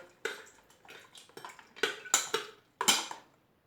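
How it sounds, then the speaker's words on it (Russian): Metal spoon clinks and scrapes inside an electric kettle while stirring sugar into mulled wine, in irregular bursts, several louder knocks near the end, no voices. "Теперь все это нужно хорошо перемешать ложкой, чтобы сахар растворился."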